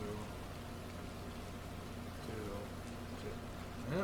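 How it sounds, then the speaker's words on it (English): Rain falls steadily on a building site while a craftsman's workshop and sawmill go up, a low even hiss with faint scattered chirps, fading off toward the end. "That rain stopped kind of suddenly."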